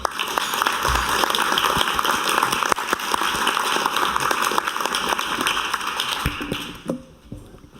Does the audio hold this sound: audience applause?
yes